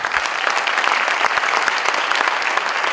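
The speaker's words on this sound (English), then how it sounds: "a big round of applause for all of our inductees" A crowd at a school district sports Hall of Fame induction ceremony claps for the inductees, dense and steady applause filling the room for about three seconds with no voices on top.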